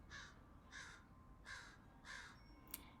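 Several crows cawing outdoors, five evenly spaced harsh calls at a steady rhythm, moderately close against a quiet background.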